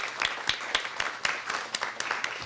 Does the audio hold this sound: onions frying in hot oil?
no